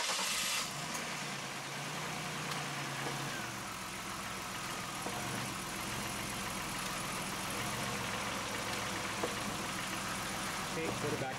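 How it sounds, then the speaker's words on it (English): A minivan engine started and left running after a transmission flush, a steady close idle with a faint knock, with people talking nearby. "I'm gonna fire it up there, Chris, and put it through the gears."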